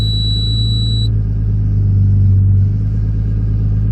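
Car engine idling just after a cold start in an RX7 on a primed fuel system, a loud, constant low drone with a steady mechanical hum close by and a faint high whine fading early on.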